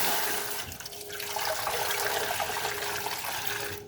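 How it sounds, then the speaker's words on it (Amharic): Water pours steadily into a cooking pot set on a stove fire, a continuous rushing stream that grows fuller and louder after the first second, heard alone without talk. "ለሱ የሚበቃ ውሃ እጨምርበታለሁ ማለት ነው።"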